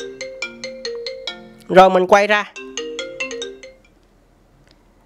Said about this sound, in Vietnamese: Thì mình sẽ cài cái nhạc chuông đang mở này.